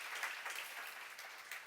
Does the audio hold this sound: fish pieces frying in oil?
no